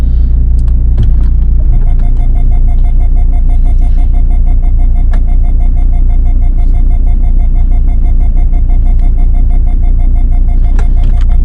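A Volvo XC90 with a 5-speed automatic transmission idles loud and close, its steady low engine rumble holding through the gear changes, with a faint tonal whine and an occasional click on top.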